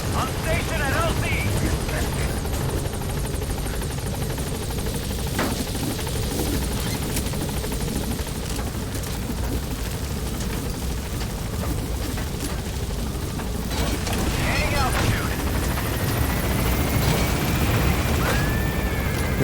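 The Pequod helicopter arrives in Metal Gear Solid V: The Phantom Pain, rotor thrum continuous under game radio voices, with a few sharp booms and a rising whine near the end.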